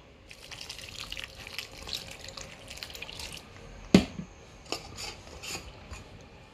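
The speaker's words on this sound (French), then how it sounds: "Je rajoute un peu d'eau." Water pours and drips into a mix of cassava and maize dough for kenkey, with soft splashing and trickling, one sharper splash near the middle, then light wet rubbing and stirring sounds, close by with no talk.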